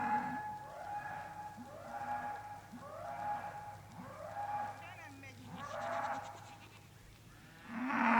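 Cattle grazing on a grassland meadow moo repeatedly, with several drawn-out calls at steady intervals in an open outdoor setting, moderately distant, and a louder low call closing the passage.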